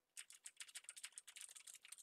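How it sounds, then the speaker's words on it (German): Rapid keyboard typing picked up through a Logitech G Pro X headset with Blue microphone, a quick steady run of close, crisp key clicks lasting about two seconds with no talk. "Also zum Beispiel hier mal kurz die Demo von der Tastatur."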